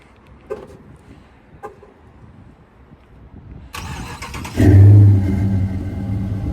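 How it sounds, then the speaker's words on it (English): A Dodge Charger RT engine warm-starting: a couple of faint clicks, then the starter cranks and the engine catches with a loud burst before settling into a steady, rumbling idle close by. "I can give y'all boys a little warm start real quick."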